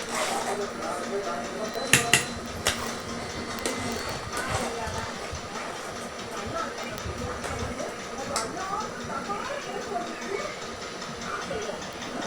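Venn pongal is stirred in a pot, the ladle clinking and scraping against the metal with a few sharp knocks early, while a voice talks over the mixing.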